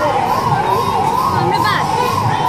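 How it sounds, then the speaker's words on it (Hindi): An ambulance or police vehicle pushes through a dense crowd at a Durga Puja festival, its siren wailing steadily over loud crowd noise and shouting children. "रास्ते में भीड़ देखो, इसी बीच में से एम्बुलेंस जा रही है या पुलिस और कोई वीआईपी की गाड़ी जा रही है।"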